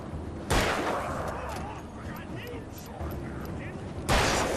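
Gunfire in the video game Alan Wake, with two sharp broadband shots at the start and end over a busy, mid-level game soundscape.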